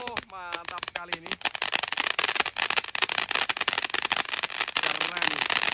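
Roman candle and large firecrackers set off on takbiran night, a dense, continuous crackling barrage that follows a brief moment of voices at the start.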